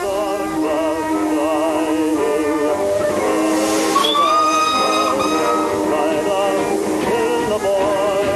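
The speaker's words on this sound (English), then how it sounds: "And this, I think, is your train." A train pulling into a station, with sustained rumbling and screeching wheel and brake tones and a whistle rising midway, loud and close throughout.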